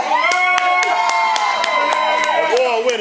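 A music festival audience cheering, whooping and clapping for a poet, a loud continuous crowd roar with sharp regular claps punctuating it.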